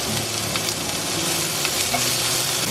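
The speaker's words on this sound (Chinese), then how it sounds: "刚才的那个鱼干椒我留了几根，还有小米辣，加料头炒一炒，加点姜片。" Dried fish chili, millet chili, aromatics and ginger slices are stir-fried in a hot pan, making a dense, continuous close sizzle with stirring scrapes throughout and no talk.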